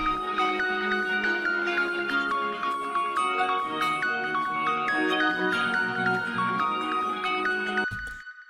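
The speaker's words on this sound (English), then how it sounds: "that is a synth loop that I kind of played out to mimic the synths of this" A bright, tinkling synthesizer loop with bell-like tones repeats steadily, then cuts off abruptly near the end.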